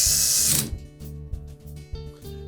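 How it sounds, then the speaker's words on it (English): A power screwdriver drives a screw into a Whirlpool washer panel: a brief high whine at the start, then faint clicking mechanical pulses in a regular rhythm. "secure one side with a screw"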